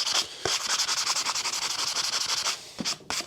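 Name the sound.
sandpaper rubbing rust off metal garden tool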